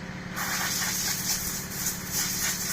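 A John Deere tractor runs on an Italian farm field, its engine a steady, loud, broadband rumble and hiss heard close with no letup.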